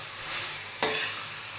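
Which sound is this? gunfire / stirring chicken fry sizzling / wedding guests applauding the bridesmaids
stirring chicken fry sizzling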